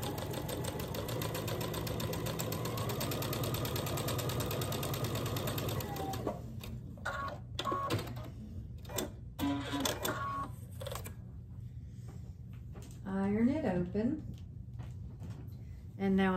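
A sewing machine stitches a quilt square with a quarter-inch seam in a steady close run for several seconds, then stops into quieter handling noises with brief bursts and a voice speaking.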